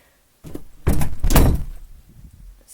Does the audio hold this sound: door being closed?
yes